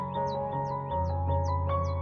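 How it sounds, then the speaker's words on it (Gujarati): Crows caw in a rural morning setting, giving a quick series of about five rough calls in steady succession over a low background hum. "જો સવારે સવારે પક્ષી જાય છે"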